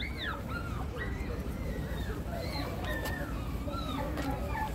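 Several puppies whimper and yip in high, wavering cries that rise and fall, over a busy, constant background din with faint voices.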